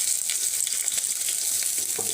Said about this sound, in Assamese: পিয়াজখিনি মই অকমান ৰঙচুৱাকৈ ভাজি লম